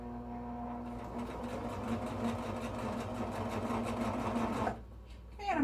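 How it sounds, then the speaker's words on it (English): A sewing machine runs steady straight stitches with regular thread along each side of an embroidery-hoop Christmas sign, a close, continuous mechanical whir lasting several seconds before it stops. "I'm just straight stitching right up along each side."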